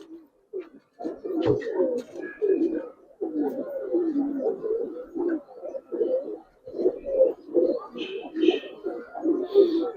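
Giribaz pigeons coo in soft, repeated rumbling phrases close by, almost continuous across the stretch, with a few higher chirps near the end and people talking in the background.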